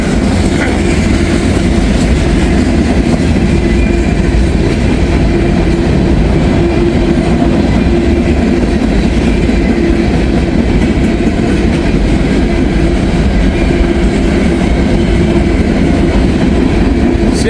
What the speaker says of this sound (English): A CSX train.